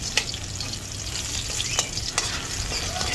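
Garlic frying in a pan: a close, steady sizzle with a few sharp scrapes and taps of a utensil against the metal, no voices.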